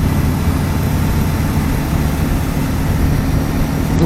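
A steady low engine rumble from a 2018 BMW G310GS motorcycle drones on without a break, loud and close, with no voices over it.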